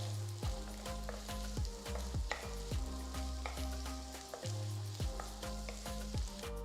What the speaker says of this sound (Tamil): ஒரு கடாய் சூடாக்கி 1 டேபிள் ஸ்பூன் எண்ணெயை ஊற்றி 6 பல்லு பூண்டு, 1 துண்டு இஞ்சி, 3 நறுக்குன வெங்காயம் சேர்த்து நல்லா வதக்குங்க